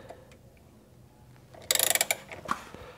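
Flange nut on a Polaris RZR 170 wheel hub being tightened with a ratchet: quiet at first, then a quick run of about ten loud, evenly spaced clicks, followed by a single softer click.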